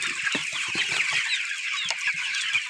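Broiler chicks in a farm shed, sixteen days old, chirp and cheep in a dense, continuous high-pitched chorus, with occasional soft clucks and low peeps close by.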